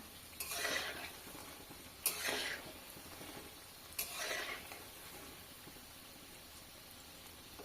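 Carrot sweet balls (gajor guti) frying in a pan of hot oil, giving three soft, separate sizzling swells a couple of seconds apart over a quiet background hiss.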